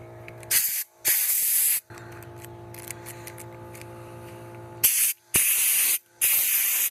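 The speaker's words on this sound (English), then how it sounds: "now I'm going to use some contact cleaner and then blow." Several loud bursts of contact cleaner spray hiss up close into a sticky Porsche ignition, a short one then longer blasts, separated by quieter stretches with a low mechanical hum.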